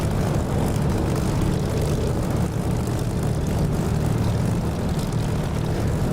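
A Spitfire's propeller engine in the DCS flight simulator drones steadily and loudly throughout, a dense unbroken roar with no pauses.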